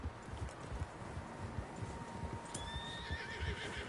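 Several horses in Red Dead Redemption II whinny and neigh, a high wavering call rising near the end, over a steady background of hoof clip-clop and outdoor ambience, with no speech.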